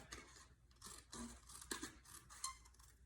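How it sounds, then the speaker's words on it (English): Scissors cut paper for a Christmas trifold card in a quiet room, giving several soft, separate snips spaced through the moment. "I'm just going to cut that with my scissors because it's going to be glued down."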